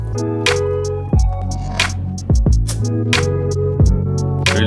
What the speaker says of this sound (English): let's put some reverb on this one